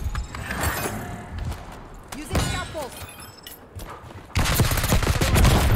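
AS VAL gunfire in Black Ops 6 cracks out in loud rapid bursts among clattering in-game effects, swelling into a dense sustained volley near the end.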